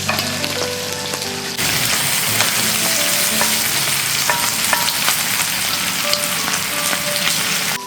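Mushrooms frying in a pan with bacon and garlic, a loud continuous sizzle with scraping stirs and small pops running throughout, getting louder as the mushrooms go in.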